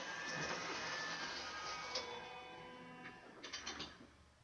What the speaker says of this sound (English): It processes the design, then moves the carriage down to the start point